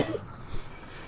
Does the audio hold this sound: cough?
yes